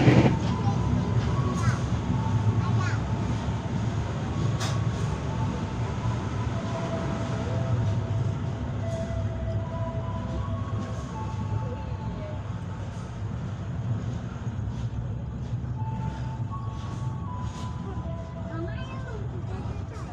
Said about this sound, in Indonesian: KA Bengawan sampai di stasiun Gombong, Kabupaten Kebumen jam 23:13 menit